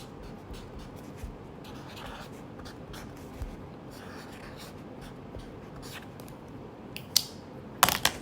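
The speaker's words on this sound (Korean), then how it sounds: "이거를 글자를 한번 우리 따라 써볼게요" A pen scratches steadily across paper as letters are written by hand, a soft, close, continuous scrape with a few faint taps and a small clatter near the end.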